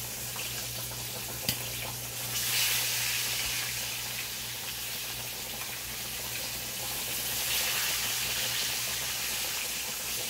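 A fish fries in a hot pan with a continuous soft sizzle and hiss, a low steady hum underneath and swelling spatter at a couple of points, no talking.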